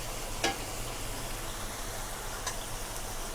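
Green masala fish curry simmering on a medium flame, a steady soft bubbling and sizzling hiss that carries on evenly, with two faint brief clicks along the way.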